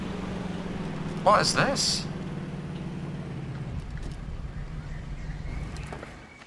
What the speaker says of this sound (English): The noise from the engine is really loud.